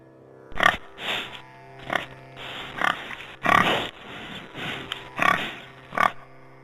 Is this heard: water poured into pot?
no